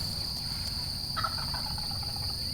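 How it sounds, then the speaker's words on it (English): An Osceola wild turkey gobbles once, a brief rattling call at moderate distance over steady insect buzz and outdoor background noise. "I get chill bumps every time he gobbles."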